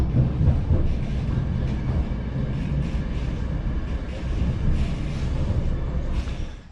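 A passenger train running through the Kaliningrad region, with a steady loud rumble and rolling rail noise throughout, close by and without talk.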